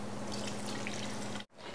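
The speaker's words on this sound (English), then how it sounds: "we're going to add at least 4 to 6 cups of water" Water pouring steadily into a cooking pot with garlic cloves for chicken soup, a continuous splashing stream close by that stops abruptly near the end.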